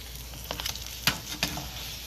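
Taquitos frying in oil in a pan, a continuous soft sizzle with a few faint crackles and pops.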